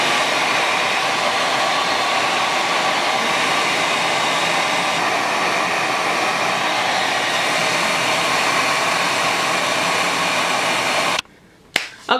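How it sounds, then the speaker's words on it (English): Blow dryer running on high while drying hair, a loud steady rushing whoosh held for about eleven seconds, then cut off abruptly with a couple of faint clicks and handling noises after. "I'm going to take my blow dryer again, and I'm going to turn it on warm or hot, and then I'm going to turn it back on high"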